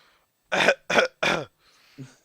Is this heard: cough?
yes